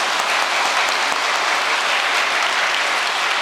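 Sustained, dense applause from a large congregation at a New Year's Day prayer service, steady and loud across the whole stretch with no voices over it.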